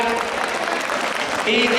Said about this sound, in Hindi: इसके लिए आप जितनी ताली बजा सकें उतनी बजाइएगा।